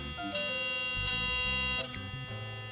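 An electric toothbrush with adjustable vibration intensity hums as a steady electric buzz, shifting between pitch steps in short segments, heard up close with no talking.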